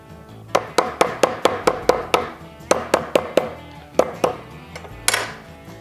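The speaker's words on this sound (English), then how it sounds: "if you take the backside of your knife and you start to open up those fibers" The back of a knife strikes lemongrass on a cutting board in quick, close, sharp knocks, a run of about eleven evenly spaced blows, a short pause, then a few more hits ending in one louder thud.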